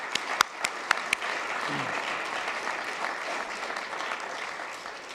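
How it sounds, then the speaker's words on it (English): Guests at a diplomatic reception applaud international partners, opening with a few sharp, separate claps before settling into a steady, moderately loud roll of applause from the room. "Please, let's give a round of applause for our international partners."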